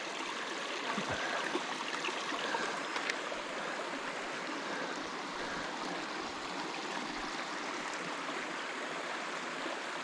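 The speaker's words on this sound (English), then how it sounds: "this is the little outflow brook" A small outflow brook draining from Grout Pond on a May hike, its steady, even trickle and babble running continuously, close by and moderately loud, with no voices.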